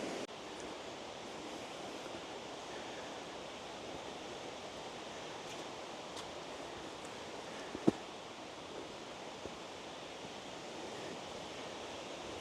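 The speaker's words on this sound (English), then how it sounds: "I can hear the water. I can see a waterfall over here on my right, down in that hole." Steady rush of running water from Mingo Falls, a waterfall down in a hollow beside a foot trail, heard as a constant, fairly distant broadband roar with one brief click partway through and no talking.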